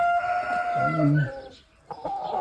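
A Jersey Giant rooster crows once at close range in a muddy winter farmyard, the call rising and falling over about a second before a short pause and a few softer clucks or calls.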